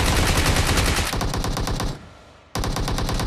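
Machine gun fire in PUBG rattles out in loud, rapid bursts. The shots break off briefly, then resume in another fast string, with no talking over them.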